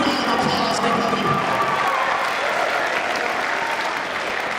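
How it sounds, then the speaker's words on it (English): Audience applause at a school graduation assembly, a broad, steady wash of clapping with faint cheering mixed in, holding level for several seconds and easing slightly at the end. "Give him a big round of applause, everybody."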